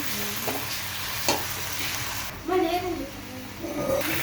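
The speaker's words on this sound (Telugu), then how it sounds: "ఆల్మోస్ట్ ఇప్పుడే చూడండి బెండకాయలు చక్కగా ఫ్రై అయిపోయాయి కదా" Okra (bendakaya) fries in a pan with a steady close sizzle, a couple of clicks of a spatula, and a voice speaking over the cooking noise.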